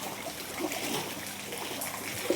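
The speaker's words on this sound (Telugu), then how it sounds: "ఈ వాటర్లో నడుచుకుంటూ వెళ్తున్నారండి." People wading on foot through knee-deep flood water, with continuous soft sloshing, trickling and splashing close by and a few brief louder splashes, no talk.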